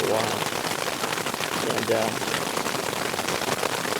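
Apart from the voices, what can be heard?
rain falling during a mountain thunderstorm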